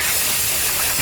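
Carbon throttle body cleaner sprayed onto an LS intake manifold, a steady loud aerosol hiss that runs unbroken for about a second, with no talking.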